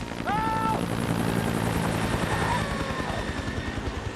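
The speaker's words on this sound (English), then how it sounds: "this helicopter just literally seemed like it was flying out of the mist" A helicopter's rotor thumps rapidly and loudly in a snowstorm, a steady low chopping with engine whine, holding close throughout.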